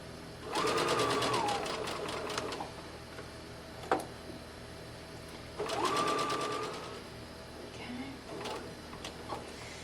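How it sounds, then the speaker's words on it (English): A home sewing machine stitches the seam of an 18-inch doll's dress in two steady whirring bursts of rapid needle ticks, separated by a pause with a soft click. "And I'm going to stitch all the way around."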